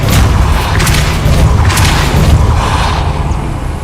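A Depulso spell blast from a Harry Potter video game lands as loud, booming bursts, several heavy thuds in quick succession over a dense, roaring rumble with no pauses.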